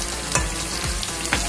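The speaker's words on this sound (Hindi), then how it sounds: "हमारे प्याज लाइट गोल्डन हो चुके हैं, इनको थोड़ा सा हम और डार्क करेंगे" Chopped onions frying in a pan for a kofta curry, a steady close sizzle with two brief stirring scrapes, no talking.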